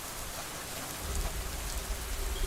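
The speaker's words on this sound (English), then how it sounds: "The rain was pouring down." Pouring rain in a dark story scene, a dense, steady hiss of falling water that thickens with a low rumble partway through, loud and continuous with no speech.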